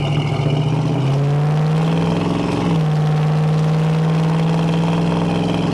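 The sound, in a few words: 1972 Chevrolet Chevelle engine exhaust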